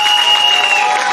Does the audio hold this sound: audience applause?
yes